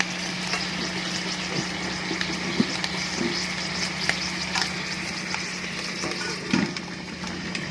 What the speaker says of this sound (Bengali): তো এখানে দেখো শুক্তো হচ্ছে আর এখানে নিরামিষ সবজি।